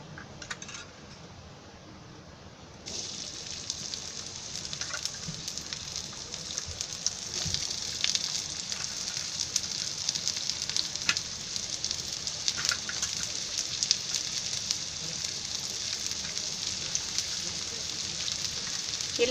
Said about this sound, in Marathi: थोडं तेल टाकते, म्हणजे ते कांदा खोबरं भाजायचं आहे ना त्याच्यासाठी